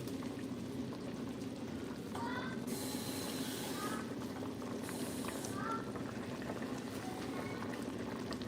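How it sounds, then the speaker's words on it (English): A little water is poured into a pot of garlic and herb soup made with olive oil to rinse in the seasonings, giving two short splashing pours over a steady simmering hiss. "add just a little bit of water to rinse my seasoning out to get it back into"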